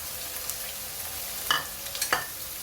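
Chopped garlic and onion fry in a pan for a taki fish dish, a steady sizzle broken by two louder scraping stirs, close and without talk.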